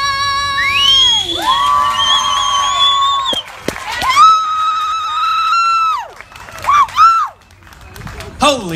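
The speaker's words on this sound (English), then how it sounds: "How about another round of applause?" Audience at a live cover performance of House of the Rising Sun screams, whoops and cheers loudly with scattered clapping, voices rising and falling in bursts before a final swell.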